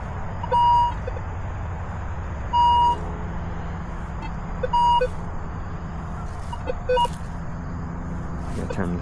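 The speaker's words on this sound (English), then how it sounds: "I hate driving people nuts with the beeping." A metal detector's pinpointer in a park gives short electronic beeps, four or five evenly spaced bursts repeating every couple of seconds, over steady outdoor background noise with distant traffic.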